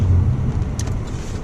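Car driving on a road toward an intersection, a steady low rumble of engine and road noise heard from inside the vehicle, with no talking.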